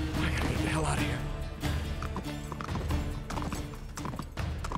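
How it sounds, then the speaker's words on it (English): Horse hooves clip-clop in a steady trot beneath a dense, busy Uncharted 3: Drake's Deception soundtrack with voices and clatter, the hoofbeats partly buried in the mix. "Well, now we have a horse."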